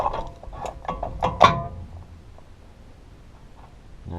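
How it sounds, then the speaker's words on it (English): Toyota pickup wheel hub and rotor assembly wiggled by hand, a quick burst of close metallic clunks and rattles that fades to quiet. "To this point, you should be able to wiggle the whole hub and rotor assembly."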